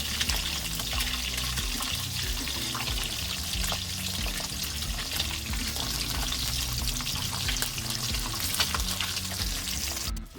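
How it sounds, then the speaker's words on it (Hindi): Pieces of fish frying in oil in a pan, a steady dense sizzle with a watery crackle that runs loud and unbroken throughout, close by, with no voice. "जैसे हम चिकन को फ्राई करते हैं इसी तरह हमने फ़िश को फ्राई कर लेना"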